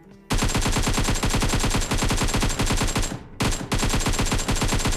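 AKM assault rifle fire in the PUBG video game: loud, rapid sustained automatic bursts, a brief pause, then a second burst, with no talking.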